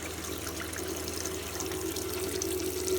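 Water rushing into a marine hot water tank after its isolation valve is opened, a steady close hiss of flowing liquid that holds constant and builds slightly toward the end, with no talking.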